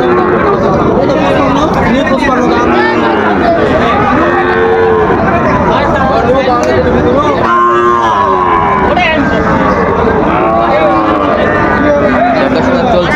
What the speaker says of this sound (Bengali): দেখছিলাম এখানে একটি গরু দেখাশোনা চলছে।